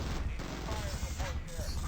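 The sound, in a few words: rocket fire from gunship in Zombie Gunship Survival video game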